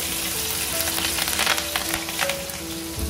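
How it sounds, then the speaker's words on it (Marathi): Garlic and chillies sizzle in hot oil at the start of a Manchurian gravy: a steady, close frying hiss with crackling bursts and a faint tonal hum underneath, and no talking. "गरम तेलामध्ये आपण लसूण टाकूया. नंतर आपण मिरची टाकूया."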